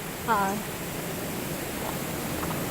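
A river at a trail crossing on the way to a waterfall rushes steadily as broadband noise throughout, with a short whistle-like tone near the start.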